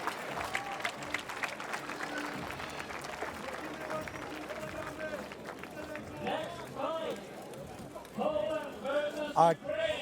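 Crowd at an IMCF 2017 world championship in Spottrup, Denmark, roars and claps with rising excitement, building to loud bursts of cheering near the end, with a commentator talking over the noise.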